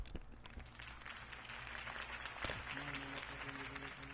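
A crowd in the Batman video game applauds at Harvey Dent's campaign speech, with a broad, sustained wash of clapping over a low, steady tonal hum, and a brief louder burst midway.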